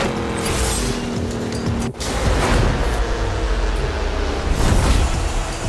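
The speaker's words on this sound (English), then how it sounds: "I'm just going to use this Nissan GTR in the final showdown." A Nissan GT-R in a video game's shrinking-arena final showdown, its engine droning steadily and loudly with a brief dip near the two-second mark, and no voices.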